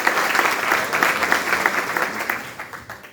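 Church congregation at Igreja Vida applauding, dense steady clapping from many hands that carries on for a few seconds and tapers at the end, with faint voices mixed in.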